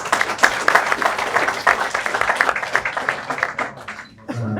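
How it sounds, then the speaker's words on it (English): An audience at a fans' forum event applauds in a sustained burst of clapping that swells and then fades out over a few seconds. "Let's give a round of applause for that."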